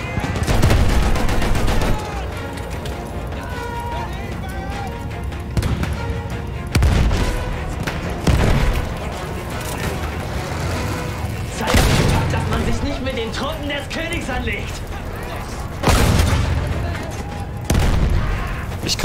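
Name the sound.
gunfire and explosions in video game Battlefield 1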